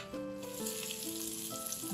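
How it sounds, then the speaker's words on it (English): Ingredients frying with a cinnamon stick in a pan for a medieval-style dish, a steady close sizzle running throughout with faint tonal ringing above it and no voices. "And now I'm letting them sizzle."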